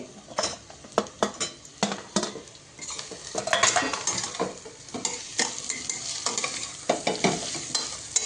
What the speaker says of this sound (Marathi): हे देखील चांगलं परतवायचं आहे।